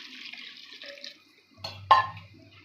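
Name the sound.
water being poured into a cooking pan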